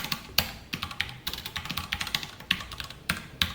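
Quick keystrokes on a computer keyboard, a close, uneven run of clicks with a few heavier key presses, alone without talk.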